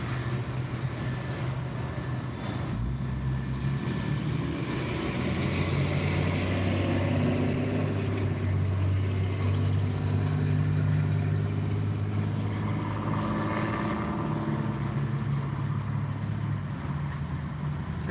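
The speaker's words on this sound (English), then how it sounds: "Kenworth T680." A Kenworth T680 truck rolling past on a road, a steady, loud, low engine and tyre rumble that swells and fades over several seconds.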